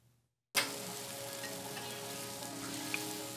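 A Baptist migrant shelter kitchen in El Paso, Texas, in the early morning starts with a sudden onset of steady sizzling and frying, a continuous low-level crackle with faint clinks, no voices.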